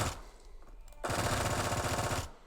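Rapid automatic gunfire from a Roblox shooter game bursts in after a quieter second of game ambience and rattles on loudly and steadily for over a second before cutting off.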